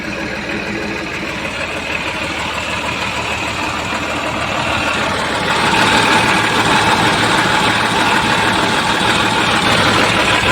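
A New Holland 3230 tractor engine idles nearby with a steady low rumble and vibration, growing slightly louder midway, with no talk over it.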